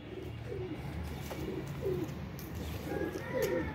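Pigeons, among them a green pigeon, coo softly in a steady background of ambient noise, with several short warbling coos spaced through the stretch and no talking.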